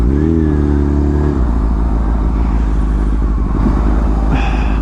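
Heavy road traffic with a truck engine rumbling close by, a deep idling drone that shifts pitch early on, then a steady mixed vehicle roar, loud throughout with no talking.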